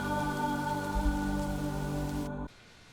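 Rain pours in a film scene from The Crow, a steady wash mixed with a low tonal score. It stops abruptly near the end, leaving near silence.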